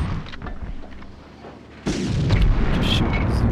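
In the Medal of Honor video game, a bazooka rocket fires and explodes: a quieter stretch of distant thuds gives way to a sudden loud, close blast with rumbling debris.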